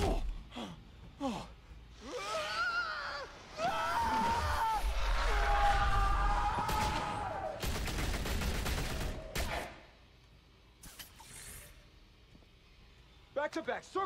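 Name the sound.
gunfire in the Batman Telltale Series video game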